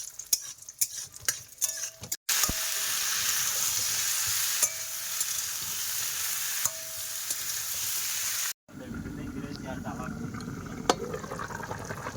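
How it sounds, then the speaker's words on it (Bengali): Soybean chunks fry in a pan in a home kitchen, a steady bright sizzle with occasional stirring scrapes, broken by brief cuts and ending in quieter clatter. "আর এই যে সয়াবিন ভাজি এখন।"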